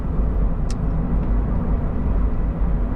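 Interior of a 2011 Honda CR-Z 1.5 IMA Hybrid GT three-door at speed, a steady low road and engine rumble with constant cabin hum and a faint brief tick near the start, no talk.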